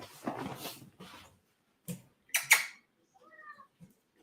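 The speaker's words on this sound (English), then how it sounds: "cat's driving me absolutely insane" A house cat meows several times indoors, short, fairly close cries separated by silences, with brief bits of other sound between.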